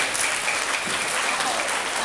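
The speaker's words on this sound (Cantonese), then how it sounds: "俾啲掌聲自己啦！" Audience applause at a school assembly, steady dense clapping from a crowd filling the whole stretch at fairly loud level, with no break or fade.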